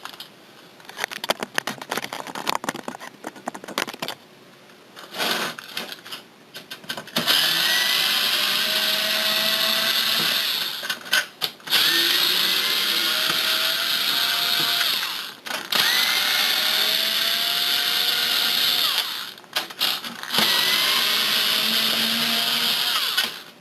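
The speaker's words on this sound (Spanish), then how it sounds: "Cogeremos la herramienta que tenga la cabeza de Thor" A powered Torx driver unscrews the case screws of an Xbox 360 Slim console in repeated whirring runs of a few seconds each, close by, separated by clicks and handling noises, with no speech.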